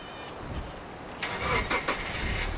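A car in the video game Hitchhiker starts up and pulls away after a quiet stretch, its engine rising into a mid-pitched rumble with a few surging revs, moderately near and without talk.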